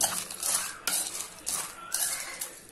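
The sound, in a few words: mixing fried Maggi noodles chaat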